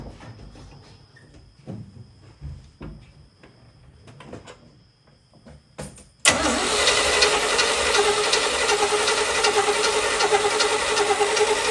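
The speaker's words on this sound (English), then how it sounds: "I'm gonna crank on it, see if I can't get fuel up into the fuel filter" A small block Chevy V8 in an old dump truck cranking over, starting after quiet crackling background with a sudden loud, steady churning drone that holds without catching for the remaining seconds.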